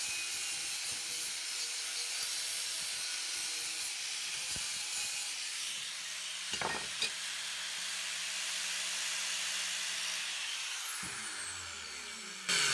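A flap wheel on an angle grinder sands steel parts for a forge built from a propane cylinder, a continuous close abrasive hiss that runs for over ten seconds with brief scraping shifts.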